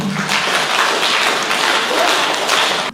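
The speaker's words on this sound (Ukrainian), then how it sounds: "оплесками їх вітати" Concert audience applauding at a Ukrainian folk music performance, a loud, dense wash of clapping that continues without a break and cuts off abruptly at the end.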